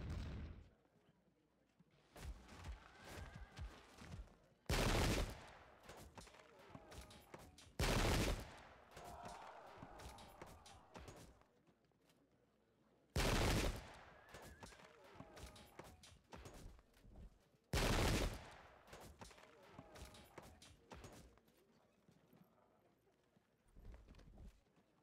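Napoleonic-era musket volleys in Field of Glory II, with several loud, broad bursts of gunfire spaced across the stretch over a busy battle ambience of hooves and clatter.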